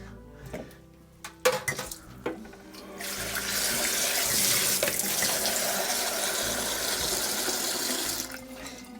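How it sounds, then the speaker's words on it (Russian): Tap water runs into a rice cooker pot, starting with a few clinks and knocks of the pot, then a steady, loud rush of water for several seconds before it tapers off. "добавим до отметки 3 воды"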